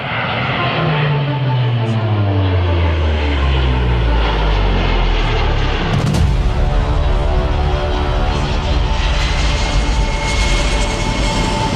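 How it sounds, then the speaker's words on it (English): An aircraft flies overhead with a loud, steady engine roar that shifts in pitch as it passes, filling the whole stretch with no talk. "See that plane right here?"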